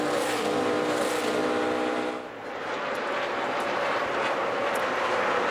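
NASCAR Nationwide Series stock cars racing at Kentucky Speedway, a dense, loud engine roar from the pack sweeping past with a brief dip before building back up, no talking over it.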